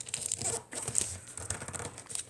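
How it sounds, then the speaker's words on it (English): Paper being folded and creased for an origami swallow, close up, with soft crinkling and brushing rustles that come in short uneven strokes, quiet and alone without talk. "Now you just want to fold this, turn it the other way, do the same thing."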